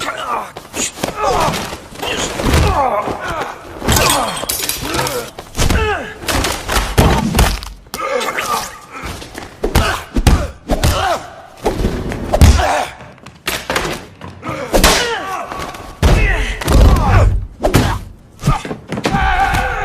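Heavy thuds and blows from a film fight between a man and a big-bodied opponent, dense impacts and slams running throughout, mixed with music and movie effects.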